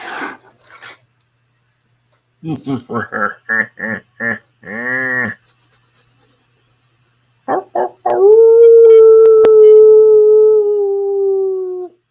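A man imitates a wolf howl with his voice, starting with short yips and rising barking calls, then a pause and a long, loud sustained howl that slowly fades.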